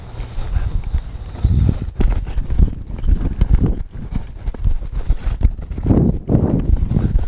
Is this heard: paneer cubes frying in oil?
no